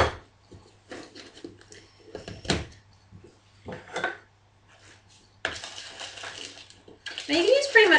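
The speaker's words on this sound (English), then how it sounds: "stir in your bran, chocolate chips, or whatever else is small and tasty, and your half cup of sugar" Stirring bran, chocolate chips and sugar into banana muffin batter in a home kitchen: sparse soft clinks and knocks of a utensil against a bowl, then louder bursts of scraping and rustling toward the end.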